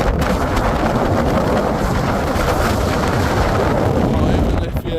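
Strong storm wind roars across a beach in Blackpool during Storm Isha, a loud continuous buffeting rush battering the microphone for the whole stretch with no letup.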